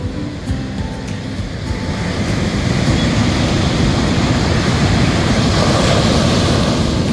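Ocean surf rolls and breaks along the San Diego coast where surfers ride the waves, a continuous broad roar that swells slightly louder as it goes, steady and fairly close, with no voices.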